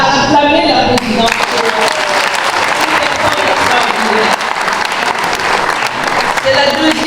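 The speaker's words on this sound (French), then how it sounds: "acclamer la présidente" A gala audience in a château applauds and cheers the president, a dense, loud and steady wall of clapping that continues for several seconds with voices mixed in.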